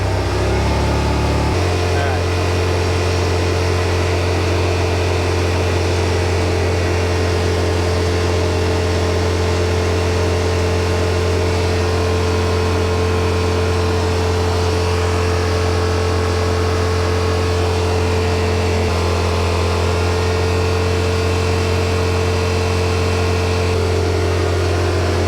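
A Yamaha Rmax side-by-side engine held steady at about 5,000 RPM, heard from inside the cab by the dash as a loud, constant droning hum with an unchanging pitch for the whole stretch.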